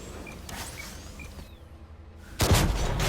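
A distant tank gun shot rings out across the map in a tank battle game featuring the Object 430, followed by a sharp, loud nearby cannon blast at the end over low engine rumble.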